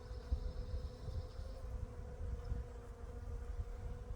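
Lit'l Grandfather Mountain honey bees buzz faintly around their hive as they are moved into a duplex hive, a soft, steady drone with a low hum and no voices.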